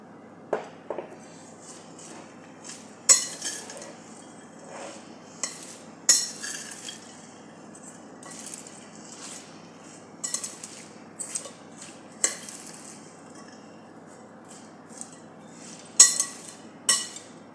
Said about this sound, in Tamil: இப்போ ஸ்வீட் பாப்சி சீட் ட்ரெஸ்ஸிங் உள்ளே போட்டுட்டு அப்படியே மிக்ஸ் பண்ணி விட்டுடலாம்.